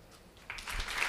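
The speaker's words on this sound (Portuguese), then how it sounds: "Palmas." Applause from an audience at a public session, thin and faint at first, then swelling into brief clapping from a modest crowd within about a second.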